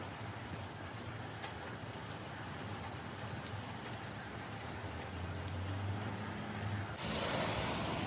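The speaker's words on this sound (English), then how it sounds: "the rain is a lot heavier" Heavy rain pours steadily during Hurricane Milton's landfall in Orlando, Florida, with gusty wind adding a dull roar; the downpour thickens near the end into a louder, denser wash, with no talking.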